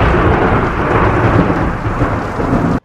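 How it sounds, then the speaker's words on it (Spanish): Thunder sound effect in a narrated story, a loud, continuous rumbling roll with rain-like hiss that holds steady for nearly three seconds, then cuts off abruptly. "se escuchaba un trueno"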